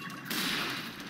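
Bubble missiles launching in SpongeBob SquarePants: Battle for Bikini Bottom Rehydrated, a bright burst of rapid whooshing shots that starts abruptly and holds steady for about a second, with no talking.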